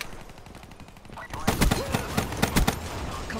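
Shieva rifle firing in Black Ops 3, sharp bursts of close, loud shots in quick clusters after a quieter start, with a voice briefly in the background.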